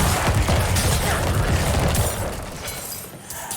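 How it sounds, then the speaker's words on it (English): Corpse Explosion skill effects from Diablo IV burst in dense, loud booms and crunching impacts, packed together and then tapering off toward the end. "listen to how basic Corpse Explosion sounds this time"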